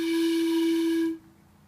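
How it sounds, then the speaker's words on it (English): A 12-inch copper train whistle blown by mouth gives one loud, steady, pure tone with bright overtones, held for about a second before cutting off abruptly into quiet. "You can test the whistle just by blowing into it"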